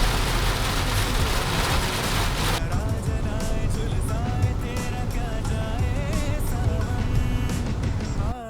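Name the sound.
heavy rain on car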